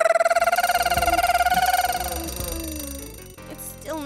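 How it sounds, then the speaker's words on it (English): An alarm clock rings in a rapid, loud electronic trill that starts immediately and gradually fades, followed by a few softer thumps and rustles as it stops. "Turn off the alarm clock."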